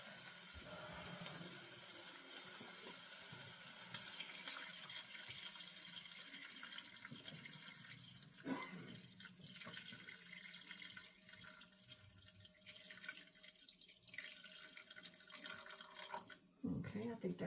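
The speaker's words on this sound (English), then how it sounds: "add enough water to cover the sausages" Steady rush of water pouring from a tap into a pot of sausages, continuous and close, with faint clinks near the end.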